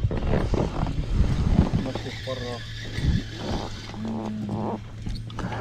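A motor boat engine on the Moksha river in Mordovia, a low steady drone heard at a distance under close voices talking and wind noise on the microphone.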